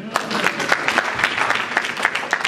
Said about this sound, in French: Acclamez pour Jésus.